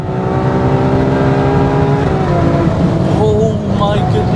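A Ferrari 812 Superfast's V12 exhaust roars loudly from inside the car, a strong sustained engine tone that holds and then shifts pitch as it eases off, under excited talk from the driver.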